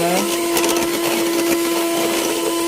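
Electric mixer beating soft-peak batter for a blueberry custard cake, a loud steady motorized whir with a constant hum running the whole time, close and alone.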